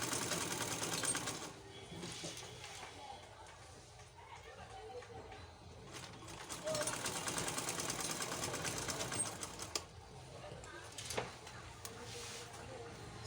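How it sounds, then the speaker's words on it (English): Sewing machine stitching fabric for a fishtail long gown, with a steady mechanical whir running throughout the recording. Speech carries on over the motor. "Sewing this."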